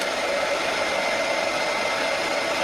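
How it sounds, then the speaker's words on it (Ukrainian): A hair dryer running on its heating setting, powered through an Anern ECO-2000 hybrid inverter, gives a steady, even whooshing roar that holds without change throughout. "Ось фен, вмикаємо його."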